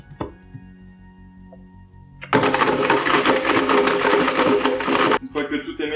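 An electric blender whirs into action, mixing anchovies into a Caesar salad dressing. After a quiet, ticking start it switches on abruptly with a loud, dense, steady roar for about three seconds, then cuts back to lighter clatter.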